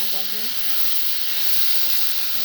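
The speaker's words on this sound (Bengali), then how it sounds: "ভালো করে কষিয়ে নেবো" A paste of onion, garlic and chili frying in oil for a pangas fish dish, giving a steady, dense close-up sizzle and hiss that holds at even loudness throughout.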